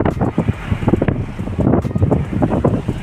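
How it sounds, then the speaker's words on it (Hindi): Strong outdoor wind buffets the microphone in loud, gusty, irregular rumbles and roars. There is no talk over it. "काफ़ी खतरनाक हवा चल रही है"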